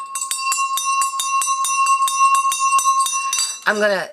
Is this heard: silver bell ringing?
yes